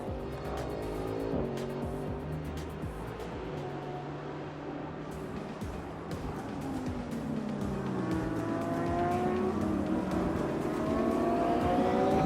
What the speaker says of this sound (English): a short clip of the Watana Motorsports Lamborghini right there